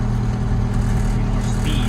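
A Detroit 8V71 two-stroke diesel truck engine paired with a 13-speed transmission drones steadily up close as the throttle is eased, a continuous low rumble with no breaks.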